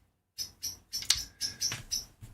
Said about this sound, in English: I've got a bird just getting very upset out from my window